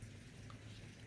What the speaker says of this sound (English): But it is raining outside, which is great.